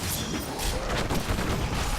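A rapid barrage of explosions from the Diablo 3 video game forms a dense, loud, continuous roar of crashes and booms with no pauses.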